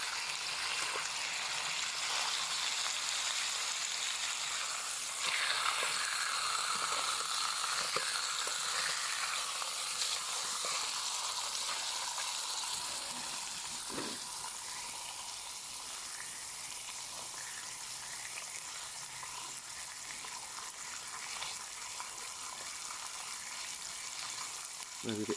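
Food fries in an oiled pan on a Trangia camping stove, a dense, continuous sizzle and crackle close by that eases slightly partway through, with occasional faint stirring taps.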